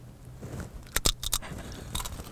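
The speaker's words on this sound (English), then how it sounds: "I hate chewing noises." Crisp crunching and chewing of a sweet, kettle-corn-like snack chip, a few quick bites and crackles close to the mouth, fairly faint with no talk.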